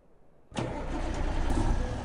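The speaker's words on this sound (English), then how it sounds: "Truck started back up." A Kenworth T680 truck engine in American Truck Simulator cranks and catches after a quiet moment, then settles into a loud, steady low rumble up close.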